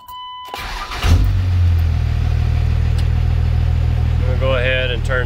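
A Dodge truck engine cranks, fires up and settles into a loud, steady idle as it warms up with a new radiator, a low constant rumble close by, with a voice briefly heard near the end.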